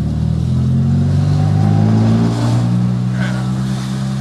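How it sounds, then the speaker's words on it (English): A Fiat Cinquecento's small engine revs loud and close, a throaty droning hum that swells slightly as gas is applied and holds steady. "I love the sound when you go, you know, when you put a bit of gas on"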